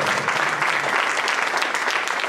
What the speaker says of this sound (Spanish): Dale ofrenda de aplauso al Señor.